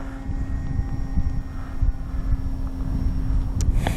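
An FMS Ranger 1800mm RC trainer airplane at full throttle over a runway, its steady motor drone continuous and fairly distant beneath wind noise, with no talking.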